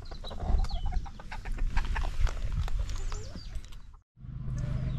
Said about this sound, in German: So, da sehen wir Schnullis bunte Hühnerschar.